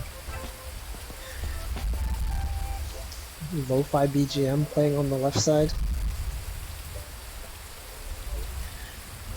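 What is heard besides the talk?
rain falling, heard in a VR game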